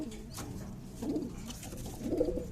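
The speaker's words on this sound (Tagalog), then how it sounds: "Ito po ang bago nating ibon." A pigeon coos close by in a few soft, low, throaty phrases, fairly quiet and without any talking.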